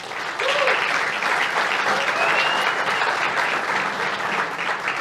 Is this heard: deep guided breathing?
no